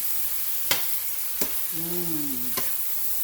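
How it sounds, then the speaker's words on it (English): Shrimp and vegetables, including Brussels sprouts, sizzling in a skillet over the heat, a steady hiss broken by three sharp utensil knocks and a brief tonal squeal partway through, close and fairly quiet. "Now I'm gonna pull it over onto the heat so it can go ahead, because those shrimp need to get nice and opaque."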